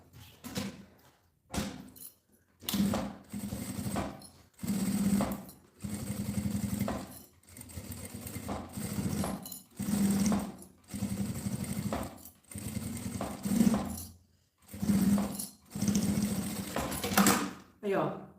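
A sewing machine stitches bias binding around the edge of a pouch in repeated bursts of rapid whirring, each a few seconds long and separated by short pauses, with someone talking between and over the runs.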